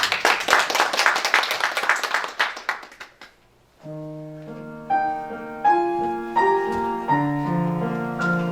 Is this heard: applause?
yes